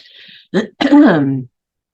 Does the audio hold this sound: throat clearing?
yes